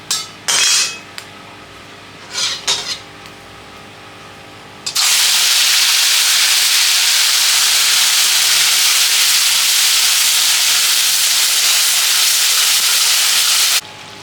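A spice paste of poppy seed, cashew, chilli, onion and tomato for potato and egg kofta hits a hot pan and sizzles loudly in a sudden steady hiss lasting about nine seconds, after a few soft clinks of utensils.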